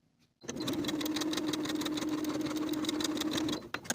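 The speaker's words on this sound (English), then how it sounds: "Sew the pinned short end with a 1/2 inch seam allowance" A sewing machine stitches a short seam on a skirt waistband, starting abruptly after a brief silence and running at a steady, rapid mechanical whir and clatter for about three seconds before stopping, close and loud.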